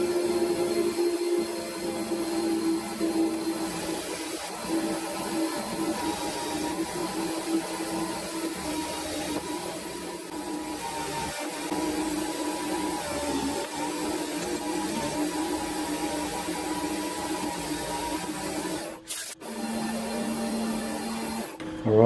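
A metal part for a homemade ER32 collet spin indexer being machined on a lathe, a steady close whirring cut that runs continuously and stops abruptly near the end.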